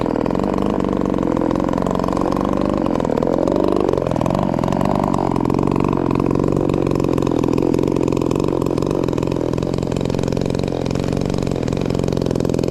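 Ported Holzfforma G466 chainsaw idling steadily and loudly up close, its buzzing drone holding throughout with a brief wobble in pitch early on.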